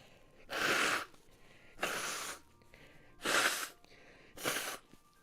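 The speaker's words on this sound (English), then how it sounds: "I'll blow my nose for you." Someone blows their nose into a tissue, giving four close, forceful blows evenly spaced with quiet pauses between them.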